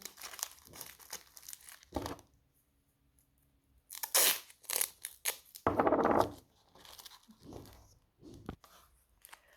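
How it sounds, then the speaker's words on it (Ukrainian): Close crinkling and crumpling of paper wrapped around a papier-mâché snowman form and fixed with masking tape, in several bursts, with sharp tearing and rustling sounds separated by brief quiet pauses. "тому добре фіксуємо і обліплюємо малярним скотчем"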